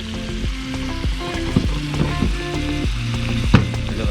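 Calamari squid frying in a pan outdoors at the beach, a steady close sizzle with bursts of louder crackle, overlaid by intermittent tonal background sounds.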